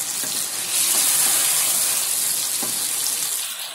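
Turmeric and red chili powder fry in hot oil while being mixed for a chicken and dal mash, a loud, close, continuous sizzle that fades slightly toward the end, with no talking.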